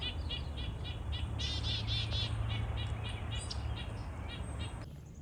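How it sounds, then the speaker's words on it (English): Many small birds chirp and tweet in rapid repeated bursts around a baby owl perched in a tree in an Alaskan spring, with insect-like trilling beneath and no talk. "all the birds are flying around it and chirping"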